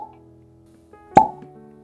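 A single soft, hollow pop as a cork is pulled from a Balvenie 12 DoubleWood whisky bottle, close and brief, after a quiet moment.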